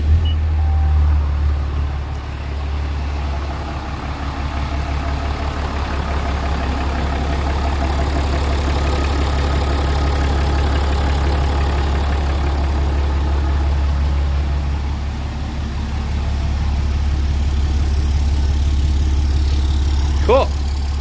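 A 6.7 Cummins diesel pickup with a VGT turbo idles after fresh work, a deep, even, steady rumble held for the full length with little change, and a faint, brief higher whine near the end.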